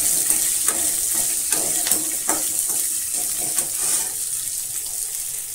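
Small onions (shallots) fry in a pan for a spicy radish chutney, making a steady hiss of hot oil with light stirring taps and scrapes close by.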